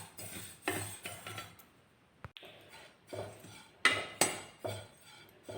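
Sesame seeds for til ladoos stirred as they roast in a pan over a low flame: close, repeated scraping and clinking strokes of a spoon against the metal, in uneven bursts.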